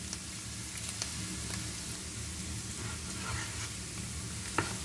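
Onions sizzle and fry steadily in a pan for a tilapia stew, a soft continuous crackle with a few small pops, fairly quiet and with no one talking.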